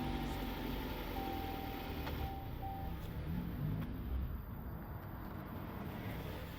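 A used car out on a test drive, heard from inside as a steady broadband road and engine rumble with wind noise, continuous and fairly loud throughout, with no talking.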